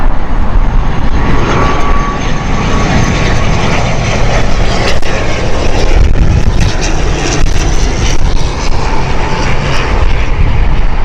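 A fixed-wing airliner roars at Heathrow Airport in gusty wind, its engine noise loud and sustained throughout, mixed with wind buffeting and no one talking.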